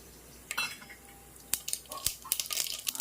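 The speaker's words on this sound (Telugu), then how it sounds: "ఆవాలు చిక్కపట్లాడుతున్నాయి" Mustard seeds spluttering in hot oil in a pan for a Telugu brinjal curry, giving scattered sharp pops and crackles at moderate volume with no voices over them.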